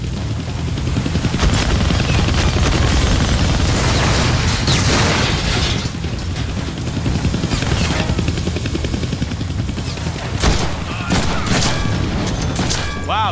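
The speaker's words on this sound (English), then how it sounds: "I can't kill that chopper with my guns," Rapid gunfire and booms ring out in a Deadpool video game as shots are aimed at a hovering attack chopper, its rotor drone running loud and continuous beneath the crackling bursts and crashes.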